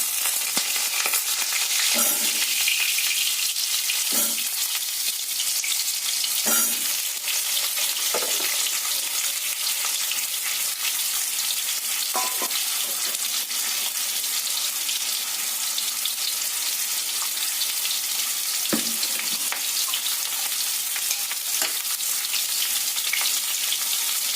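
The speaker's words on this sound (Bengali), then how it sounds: "কড়াইতে তেল দিয়ে আগে আলুগুলো ভেজে নিচ্ছি।" Potatoes frying in hot oil in a wok, a loud, steady sizzle throughout with occasional scraping and stirring knocks.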